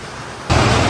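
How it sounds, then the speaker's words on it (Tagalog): Rain pours onto the roof of a small shop on a dark, wet day, a dense hissing patter that jumps abruptly louder halfway through and then holds steady. "Tunog din yung patak ng ulan sa bubong."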